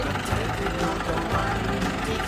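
A 75-horsepower John Deere 2130 tractor engine idles with a low, steady rumble close by, briefly and with no clear talk.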